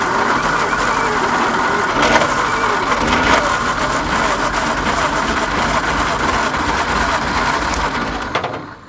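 A long-dormant 1950 Nash car engine runs steadily, a loud, continuous rough idle with a few sharper bursts, before cutting out abruptly at the very end.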